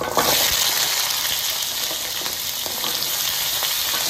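Shallots, garlic, cumin and pepper sautéing in hot oil for pirandai (adamant creeper) chutney, a steady close, loud sizzle running unbroken throughout with faint crackles and no talking.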